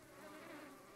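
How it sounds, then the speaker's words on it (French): Bees buzzing in a vegetable garden in the game Book of Hours, a soft steady insect drone hovering faintly throughout without any voices. "Des abeilles."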